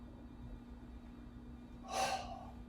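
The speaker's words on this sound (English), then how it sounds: "arch your back and exhale" A single short, breathy exhale from someone arching their back during an exercise class, soft and close after quiet background.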